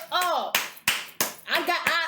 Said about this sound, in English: I gotta clap for her.